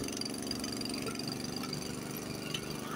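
A Honda snowblower engine running steadily under load as it bogs down pushing through a snow berm, a continuous low rumbling drone with a constant scraping, churning hiss layered over it, close and fairly loud.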